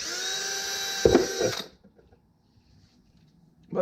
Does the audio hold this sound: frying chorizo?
no